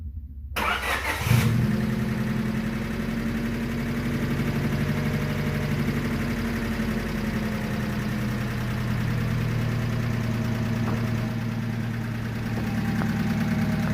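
A Honda Civic with freshly adjusted valves cranks briefly, catches and settles into a steady, loud, somewhat noisy idle that runs on alone, close to the car.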